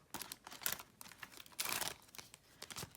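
Paper cash bills being pulled out of budgeting envelopes: close, crisp crinkling and rustling in short bursts, with a louder tearing-like swish partway through.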